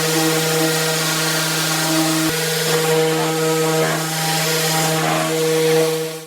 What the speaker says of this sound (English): we use a jigsaw to cut around there, and then a sander to finish it off.